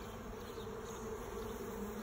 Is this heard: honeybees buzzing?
yes